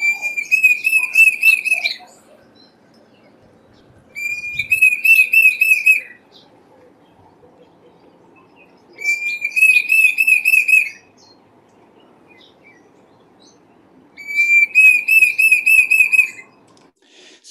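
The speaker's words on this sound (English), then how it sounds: "you heard the Diederik, the sound that gives the bird its name" A loud, clear Diederik cuckoo whistle repeats in four separate bursts, each a rising series of sharp notes, separated by quiet stretches with faint background murmur.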